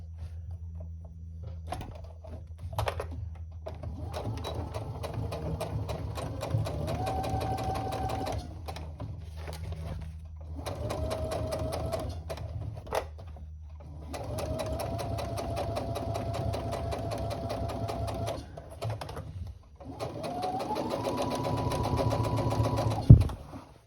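A sewing machine stitches across the side of a tote bag in several bursts of rapid, even whirring, separated by short pauses for repositioning, close and clear with no talk.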